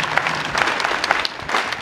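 A congregation at an ECODIM church divine service in Kolwezi breaks into loud, dense applause, with many hands clapping steadily for the whole stretch and no voices over it.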